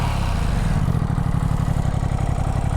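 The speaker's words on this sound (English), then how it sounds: "let's take a quick listen to the exhaust system here" The exhaust of a 2025 Ducati Multistrada V2 S motorcycle burbles at idle up close, a steady throbbing rumble that firms into a rapid even pulse, with no talking.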